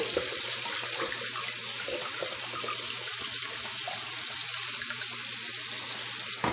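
Steady rushing water pours continuously and close by, a broad splashing hiss with no pauses or voices, as water drains from a Marineland aquarium canister filter.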